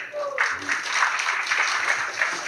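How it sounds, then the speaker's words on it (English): An audience applauds during a spiritual talk at an ISKCON temple in Hyderabad, with brief, moderately loud, evenly spaced clapping that starts right after a short spoken word. "Give him an applause."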